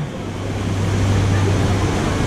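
Water rushes and splashes around a raft on the Bigfoot Rapids river ride at Knott's Berry Farm, a steady loud wash with low rumble and wind buffeting the microphone throughout.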